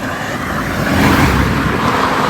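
Steady traffic noise on a busy road, with cars passing close by in a continuous loud wash and no clear break between vehicles.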